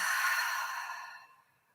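A single slow, breathy exhale during a guided breathing meditation, strongest at the start and softly fading away over nearly two seconds in a quiet room.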